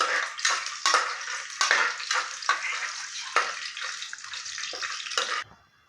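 Whole spices for vegetable biryani sizzle and crackle in hot oil in a pan, loud and close, with a bright spattering hiss in uneven bursts that dies away at the end.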